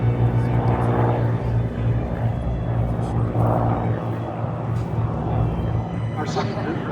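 Aircraft of a liaison and observation group taking off at the EAA AirVenture Oshkosh airshow, a steady loud engine drone with a low hum that holds throughout, with an announcer talking over it.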